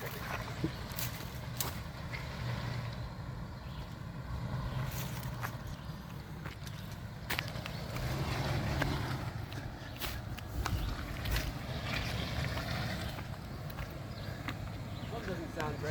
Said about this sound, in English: it's just mud scraping.